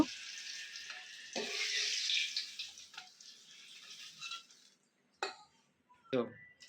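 Whole eggplants fry in hot oil for a spicy mustard curry, giving a steady close sizzle and crackle for the first few seconds that thins out later, with a few brief clatters from a pan.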